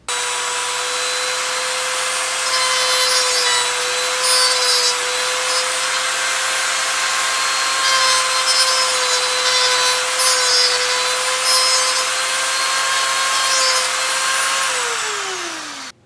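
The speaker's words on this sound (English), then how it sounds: "I just took a good old Dremel and shaved that little part right off" A Dremel rotary tool runs steadily for about fifteen seconds, a close, loud high-pitched whine as it shaves plastic off a Cadillac key fob shell, then winds down at the end.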